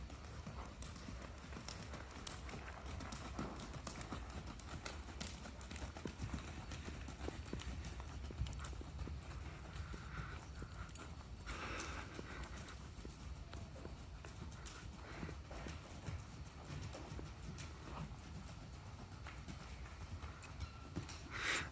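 A horse being lunged in training makes steady, rhythmic hoofbeats that continue the whole time at a moderate distance, with faint background noise and occasional soft voice sounds.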